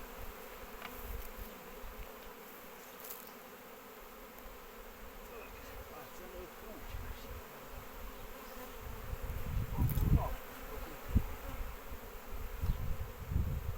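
A honeybee swarm is being moved into a hive, and it makes a steady, close buzzing drone throughout, growing busier and louder toward the end with occasional handling thumps.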